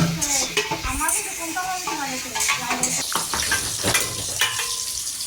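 Onion and whole spices frying in oil in a home kitchen, giving a close, steady sizzle. A utensil knocks and scrapes against the pan repeatedly on top of it.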